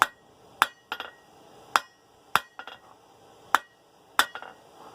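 A hammer strikes hot steel while forging the taper of a slot punch, landing about seven sharp, ringing blows at an uneven pace with small rebound taps between them.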